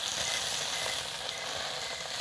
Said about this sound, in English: It's been going, I can hear it. Hear that sizzle?